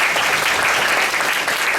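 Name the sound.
audience round of applause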